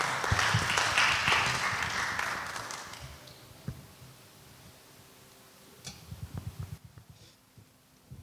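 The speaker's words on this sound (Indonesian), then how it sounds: "Tepuk tangan sekali lagi buat Tuhan kita." Applause from a church congregation swells loudly for about three seconds, then fades into scattered claps and taps against a quiet room background.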